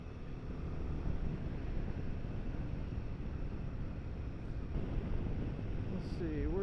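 Steady roaring wind buffeting the microphone while riding a Royal Enfield Himalayan 450 motorcycle on a road near abandoned gold mines, a continuous loud rumble throughout.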